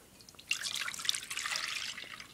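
2% milk poured into a slow cooker for corn chowder: a steady liquid stream starts after a short pause and runs on without talk.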